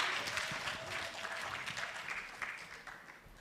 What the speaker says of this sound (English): Give her a round of applause as she comes up.